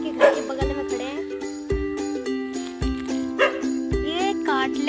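A dog that bites, in a natural setting near a house, gives several short barks and yips at irregular intervals, close by, over a steady tonal hum and jingling, while someone talks nearby.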